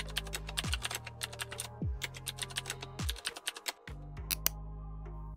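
Fingers type on a computer keyboard, a quick, close run of crisp key clicks in bursts with brief pauses, over a soft low background tone.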